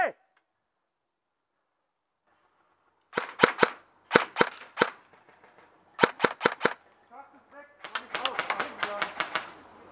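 A VFC MP7 airsoft electric gun fires rapid, sharp snapping bursts during an outdoor game, short volleys then a longer string, fairly close, with brief voices heard in the background.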